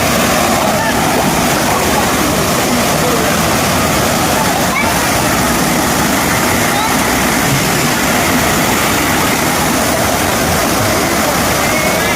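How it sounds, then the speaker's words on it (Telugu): A forest waterfall roars steadily and continuously, with a broad, dense rush of falling water that stays even and loud throughout, with no voices heard. "వాటర్ ఫాల్స్ ఎంతో అందంగా ఉన్నాయి కదండి"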